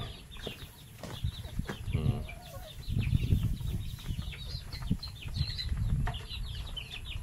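Chickens on a Philippine farm near a goat pen under construction cluck and flap their wings close by, with scattered soft calls and rustling bursts over a quiet outdoor background.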